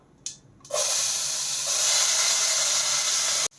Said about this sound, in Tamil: அந்த வெங்காயத்தை சேர்த்து வதக்கலாம்.